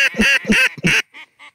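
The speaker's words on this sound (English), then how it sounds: "I'm gonna blow a duck call." A duck call blown in sharp bursts, three loud quacking notes followed by two fainter trailing quacks, close and alone with no talk.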